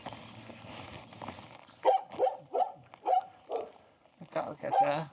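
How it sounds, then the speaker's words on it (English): A dog gives a series of sharp, high-pitched barks in short bursts along a road walk on the Camino del Norte, fairly close and loud, with footsteps and faint background noise between them. "The dog has a pretty funny high-pitched bark."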